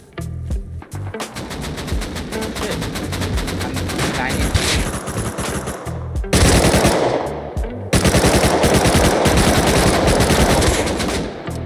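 AK rifle gunfire in the console version of the video game Rust, loud sustained automatic fire in long rapid bursts with brief gaps, dense and close, with voices talking underneath.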